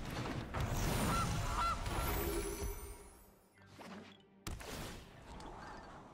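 Gilded Goose card in the digital game Magic: The Gathering Arena, a loud honking goose call up front blended with game effects, then a quieter stretch and a sharp impact-like hit near the end.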